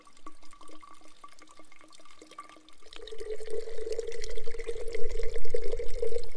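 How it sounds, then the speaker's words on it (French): Water trickles and splashes steadily as it is filtered into a bottle during a snowshoe hike in Lozère, with a brief dripping start before a fuller continuous pouring flow; no talking. "Et je filtre mon eau."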